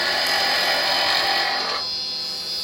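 A skew chisel riding its bevel cuts wood spinning on a lathe, a continuous close hissing shear that softens near the end, with no talking.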